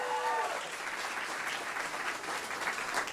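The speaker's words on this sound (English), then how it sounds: "Give another round of applause," An audience at a Philadelphia neighborhood community event gives a sustained round of applause, a soft, even wash of many hands clapping at a moderate distance, with a brief voice near the start.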